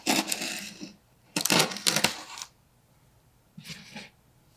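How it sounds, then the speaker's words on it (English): A blade slices through packing tape on a cardboard statue box in three bursts of scraping, tearing noise separated by quiet pauses, close and fairly loud. "So let's cut this baby open and let's see"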